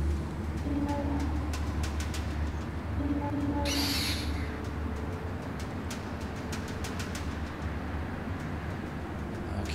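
An owl in the prehistoric video game Far Cry Primal gives a few soft, low hoots over a steady wash of wilderness ambience, with a brief burst of hiss in the middle.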